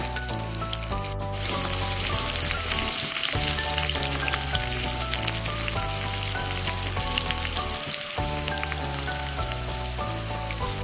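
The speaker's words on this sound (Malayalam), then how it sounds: "കടുക് പൊട്ടി കഴിയുമ്പോഴത്തേക്കും ചെറിയുള്ളി ചെറുതായിട്ട് അരിഞ്ഞു വെച്ചത് ചേർത്തൊന്ന് മൂപ്പിച്ചെടുക്കുക" Chopped shallots sauté in hot oil after mustard seeds have popped, a steady, close crackling sizzle that runs throughout beneath a background melody.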